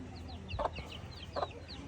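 A hen with her newly hatched chicks, giving two distinct low clucks about a second apart while faint high peeping chirps carry on throughout, close by and fairly quiet.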